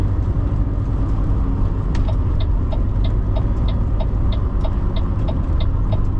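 Cars idle and creep along in slow road traffic in Quebec during the first snowfall, a steady low engine rumble filling the whole stretch with faint repeated ticking on top.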